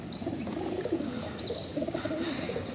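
A sick, limping pigeon with a ring on its leg gives soft, repeated hiccup-like coos nearby over a steady background hum.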